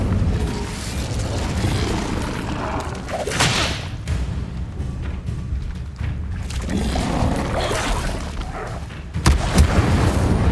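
Spell-casting combat in Hogwarts Legacy with Incendio fire spells: booming whooshes and thumping impacts over a continuous rumble, with a sharp loud blast near the end.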